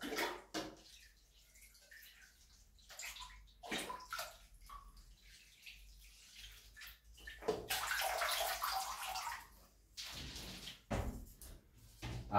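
Water poured onto indoor plants in bursts, splashing and running between quiet pauses, with a longer rush near the middle and occasional knocks of pots or furniture, no speech.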